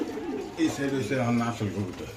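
Caged pigeons coo softly and repeatedly close by at a pigeon market while a person talks over them.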